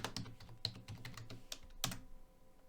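Quick keystrokes on a computer keyboard as the ls command is typed into Git Bash, a run of crisp, close clicks with a louder tap near the end and no talking.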